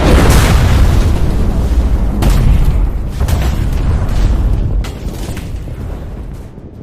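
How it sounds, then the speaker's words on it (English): Loud, heavy explosion from combat, with a deep rumbling boom that stays dense throughout and is marked by several sharper blasts or impacts, and no voices. "Another explosion."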